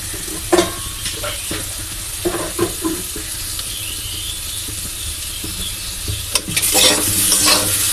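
Ingredients for a Bengali dish fry to a reddish colour in a pan, a steady sizzle under intermittent scraping and knocking of a stirring utensil, with a louder hiss toward the end.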